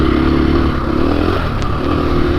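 A 2021 KTM 500 EXC-F Six Days dirt bike engine runs close by as it is blipped over jumps, a steady throaty drone with light clatter from the bike.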